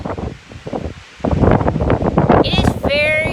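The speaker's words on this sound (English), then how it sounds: "It is very, very windy here this Friday afternoon." Strong, warm afternoon wind on a ranch buffets the microphone in heavy, roaring gusts that grow louder halfway through, with a brief high whistling tone near the end.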